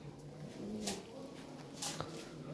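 A pair of jumbo-sized black Lahori pigeons coo in low, soft bursts, with a couple of brief sharper sounds breaking through steady background noise.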